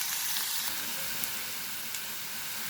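Paneer sautéing in a pan over a high flame gives a steady, even sizzle throughout, with a couple of faint clicks of utensils.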